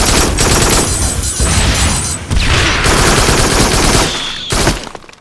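Standard-issue assault rifle and shotgun fire in the VR shooter Farpoint, loud dense bursts of gunfire with a brief pause near two seconds and a final shot before a quick fade, no talking.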